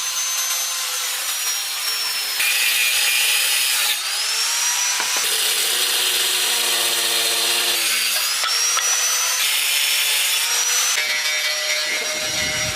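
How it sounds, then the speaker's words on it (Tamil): A power saw cutting round pieces out of a wooden board for a homemade flour mill, a loud continuous whine and rasp whose pitch shifts as the blade works through the wood, with the motor dropping off at the end. "இப்போ நம்ம அளவு எடுத்து வரைஞ்ச அந்த 2 பீஸை மட்டும் அந்த மர பீஸ்ல வந்து அப்படியே கட் பண்ணி தனியாக எடுத்துடலாம்."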